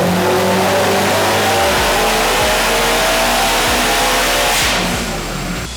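A 698 hp 2015 Subaru STI with an unequal length header revs hard and close, its loud, rumbling engine note climbing through repeated pulls before easing off.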